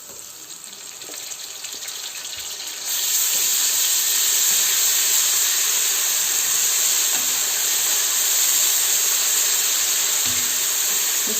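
A tablespoon of ginger garlic paste goes into browned onions in a pan while cooking a chana and masoor dal. A steady, close frying hiss jumps louder a few seconds in and then holds as an even, loud sizzle to the end.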